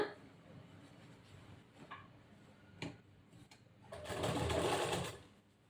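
A sewing machine stitches a second seam on a blouse. Faint ticking comes first, then a loud, steady run of stitching for about a second near the end. No one speaks.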